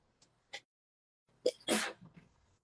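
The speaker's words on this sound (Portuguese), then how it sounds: "Espirrar é biológico" A single sharp sneeze, preceded by a quick inhaled catch and a few faint clicks, close and fairly loud against near silence.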